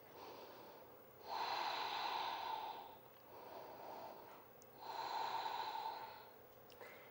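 During a yoga forward fold with nose to knee, slow deep breaths come through the nose, each long inhale and exhale clearly audible and close in a quiet room.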